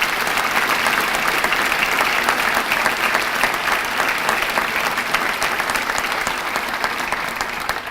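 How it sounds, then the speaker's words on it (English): Audience applause for local businesses at a 2018 business awards ceremony: dense, sustained clapping from a large crowd that fills the whole stretch at an even level, with no talk over it. "Let's give these businesses another round of applause for them."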